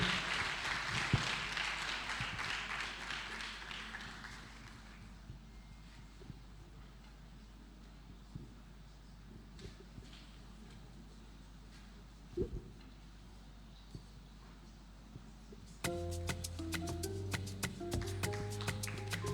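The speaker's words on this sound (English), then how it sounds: "Please keep clapping till he gets here." An audience at a Nigerian university event applauds to welcome Professor Ahime, head of English: faint, distant clapping at the start thins out into low room noise, and music enters near the end.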